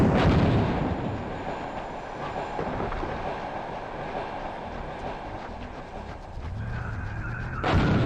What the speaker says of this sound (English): they're dropping bombs